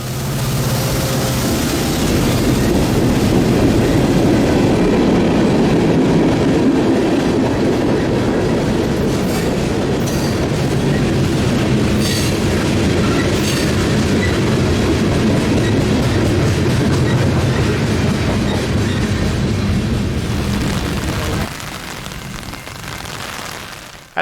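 A Norfolk Southern freight train rumbles past a station in the rain, a loud, steady roar with clickety-clack from the wheels over about twenty seconds that drops off sharply near the end.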